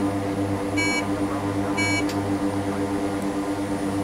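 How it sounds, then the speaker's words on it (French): A landing gear warning alarm sounds in the cockpit of an OV-10 Bronco in Microsoft Flight Simulator, a repeating pulsed tone sounding about once per second over a loud, constant engine drone. "On peut désactiver ici la petite alarme du train d'atterrissage."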